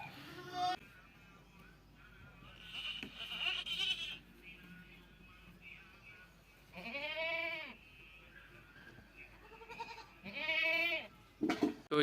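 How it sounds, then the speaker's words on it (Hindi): A young female goat kid, about six weeks old, bleats in three or four loud wavering calls separated by quieter stretches of faint farmyard noise. "तो चलते हैं अब उस बकरी की तरफ, जो हमारी कांजी बकरी है"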